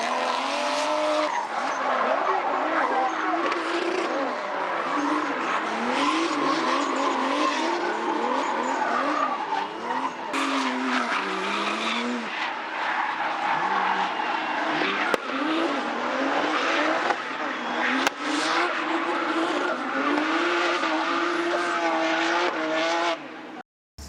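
Drift cars at a drifting event sliding through corners, engines roaring and revving under continuous loud tire squeal and screeching that persists throughout.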